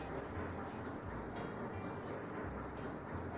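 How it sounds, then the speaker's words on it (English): A train passes by in the city-building game Sweet Transit, a steady rolling rumble with faint rhythmic clacks, moderately distant and continuous, with no speech. "They're going to the side of the road when a train passes."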